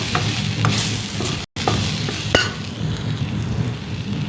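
Cumin seeds and other spices frying in oil in a pan while being stirred, a steady close sizzle with a few scraping strokes of the spoon and a brief break partway through.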